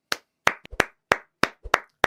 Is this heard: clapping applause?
yes